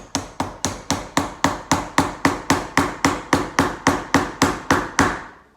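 A rubber mallet drives 3-inch PVC pipe onto a T fitting, striking about sixteen times in a fast, steady rhythm. Each blow is a close, sharp knock.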